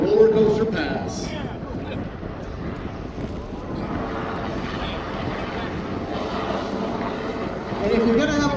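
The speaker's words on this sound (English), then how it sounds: "Wingfoot 1 is hovering now and dipping his nose down, and the technology of those vectoring engines allows us to do that" The Goodyear blimp Wingfoot 1 hovers on its vectoring engines at the Oshkosh 2025 airshow, a steady loud engine drone with a broad rushing roar that holds continuously throughout.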